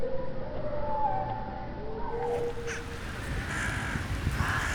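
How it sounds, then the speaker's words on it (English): Hooded crows caw in urban Berlin, harsh calls repeating over a steady background hum, fairly close and clear. "Here in Berlin, hooded crows and an assortment of other corvids are some of our closest urban neighbors"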